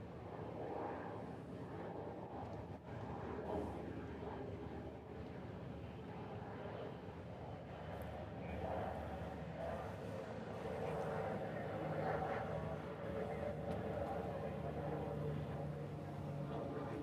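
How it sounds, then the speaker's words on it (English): A Pilatus PC-12 turboprop arriving from Lanai at Honolulu airport, a steady broad engine drone that swells slightly over the clip, heard from a distance under light outdoor noise. "This is a PC-12 coming in from Lanai."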